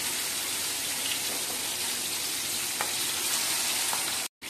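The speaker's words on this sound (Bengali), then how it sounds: "এটা গরম হয়ে গেছে, আমি মাছ দিয়ে দিচ্ছি।" Katla fish frying in hot oil in a frying pan gives a loud, steady, close hiss of sizzling that runs unbroken, then cuts out briefly near the end.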